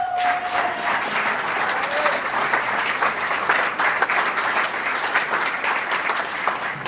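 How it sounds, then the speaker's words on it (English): Audience at a Rand Paul campaign stop at Loras College in Iowa applauds a student speaker, a steady, dense wash of clapping that holds for about seven seconds with no talk over it. "Think about applause for Alex"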